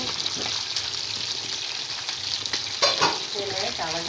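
Chicken wings frying in a pan on a home stove, giving a continuous dense sizzle with crackly spits and a louder surge of bubbling near the end, close and steady, with no voices.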